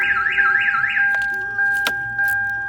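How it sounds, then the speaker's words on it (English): A Viper aftermarket alarm on a 2000 Toyota 4Runner sounds close and loud, first with a rapid warbling siren, then with a steady piercing tone broken by short chirps. "So this is a really good alarm system, guys."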